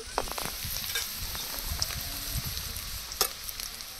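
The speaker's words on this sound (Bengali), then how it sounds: "পেঁয়াজগুলো লাল লাল করে ভেজে নিয়েছি। রসুন দিয়ে দেব" Garlic goes into onions already fried red in oil with cumin, a dense continuous sizzle with scattered stirring scrapes, close and steady throughout.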